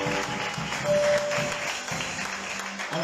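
A wedding congregation applauds in praise at a church ceremony, a dense, steady crowd clapping that carries on for a few seconds, with a brief tonal note and low murmur underneath.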